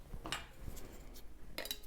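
A metal ring is screwed onto a canning jar of beetroot and turned finger tight; brief, quiet clicks and scrapes of metal against glass come in a few light bursts.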